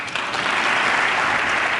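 Sustained applause from an audience during a presidential speech, a dense, steady wash of clapping that stays loud and even throughout, with no voices over it.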